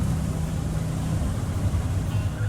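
Car cruising ambience from a tabletop role-playing sound set, with a low steady engine hum and road rumble droning evenly throughout.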